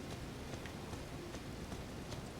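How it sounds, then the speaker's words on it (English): Steady rain falling in the video game Elden Ring, a continuous soft hiss of drops with faint scattered patters, even and moderately quiet throughout with no talk. "It's raining."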